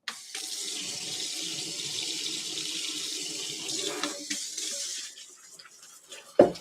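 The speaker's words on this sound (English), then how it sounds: "I'm gonna take them to the sink and just rinse them off real quick" Tap water runs steadily into a kitchen sink as food is rinsed under it, a continuous close splashing hiss that stops near the end with a brief clunk.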